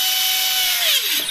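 Electric motor of a Dynam E-Razor 450 helicopter on its ESC holds a loud, steady high whine at full throttle, then winds down smoothly in pitch as the throttle comes back, with no talking.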